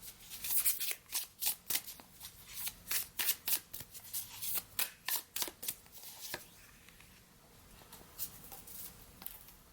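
Tarot cards being shuffled by hand in a quiet room, a steady series of crisp riffling flutters repeating in quick rhythm, close and clear, then tapering to softer shuffling at the end.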